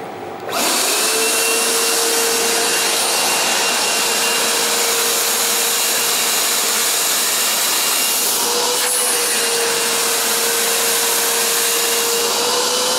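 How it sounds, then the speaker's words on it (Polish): A vacuum cleaner runs loud and close throughout while cleaning a Polonez car's headliner, switching on abruptly and then holding a steady roaring whine with a slight pitch shift partway through. "No dobra, włączamy odkurzacz."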